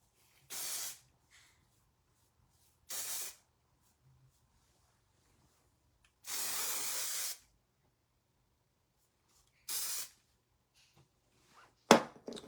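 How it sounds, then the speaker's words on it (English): Hairspray misted onto lifted hair roots in four short separate hissing bursts spaced a few seconds apart, close and clear with quiet between, then a brief clatter at the end. "Look at that hairspray."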